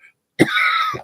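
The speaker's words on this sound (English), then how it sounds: "No, we're already coughing." One short cough followed by a harsh throat-clearing burst, close and fairly loud in a quiet room.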